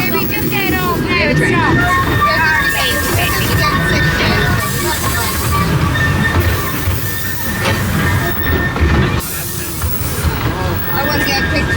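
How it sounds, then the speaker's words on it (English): A steady rumbling ride on the small Legoland Express train at Legoland Windsor, with constant mechanical noise and people chatting nearby throughout. "Always enjoy a ride on the Legoland Express"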